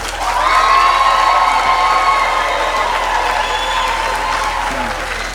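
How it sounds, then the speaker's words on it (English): A graduation ceremony audience applauds: dense, sustained clapping from a large crowd with some cheering, loud and continuous, slowly tapering off. "please, that thunderous applause which was supposed to have happened, can it happen for Serge Ndini?"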